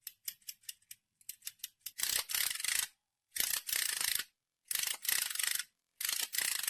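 A fidget spinner finger ring being rubbed and spun, starting with a quick run of light ticks, then long rasping whirs in repeated bursts with short gaps, close and clear with no voices.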